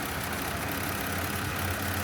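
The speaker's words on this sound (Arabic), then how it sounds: "اول شيء بدك تسمع لي صوت المحرك مالتها ناعم لو بي اعراض مال تايم تشين" A Kia Sorento engine running at idle, recorded close up as a steady, even broadband hum and whir with no voices.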